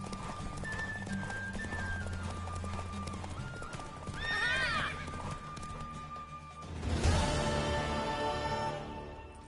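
A horse in The Witcher 3 game, hooves clip-clopping in a steady rhythm, a loud whinny breaking in midway, then a heavier burst of movement near the end, with no talk.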